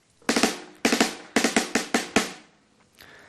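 Crisp snare strokes in quick drag grace-note clusters followed by accented hits, played in a steady rhythm, close and alone.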